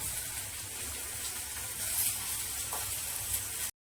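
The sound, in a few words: fish spice masala frying in a wok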